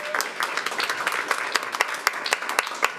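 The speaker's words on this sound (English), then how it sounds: "let's give them a round of applause as well" A school board meeting audience claps in a steady round of applause lasting a few seconds, moderately loud with many overlapping hand claps and no talk over it.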